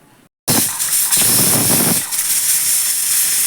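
A pressure cooker on a gas stove, cooking bele sambar, lets off steam through its whistle: after a brief quiet moment, a loud, close, continuous hiss bursts out and holds steady to the end.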